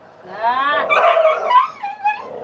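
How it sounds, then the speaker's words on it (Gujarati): Dogs snarl, yip and whine together in a short, agitated scuffle, close by and fairly loud. "કૂતરા પણ ઝઘડી રહ્યા છે"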